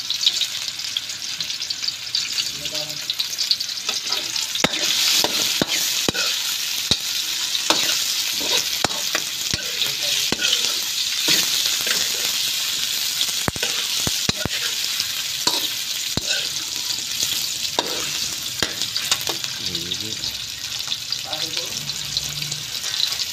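Onions sauté in a pan while Ilocano-style tilapia is cooked, giving a steady close sizzle with frequent scraping and stirring clatter throughout.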